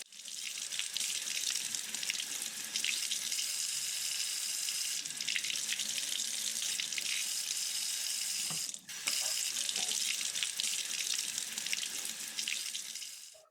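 Peaches rinsed under a running kitchen tap, a steady close gush of water splashing for several seconds with a brief interruption midway before it resumes.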